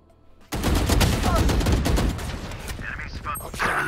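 Rapid gunfire in the game Valorant, a close burst of repeated shots in quick rhythm lasting a couple of seconds, followed by quieter clicks and mechanical handling sounds.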